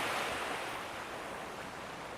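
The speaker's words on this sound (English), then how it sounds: "I've got the waves here with me." Ocean waves wash onto the shore in a continuous soft hiss of surf, fading gently as the water recedes, calm and fairly quiet, with no voices.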